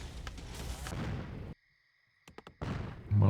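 Siege tank attacks in Warcraft III, heard as heavy booming explosions and cannon fire in dense battle noise, then a short quiet gap with a few sharp impacts before the fighting swells again.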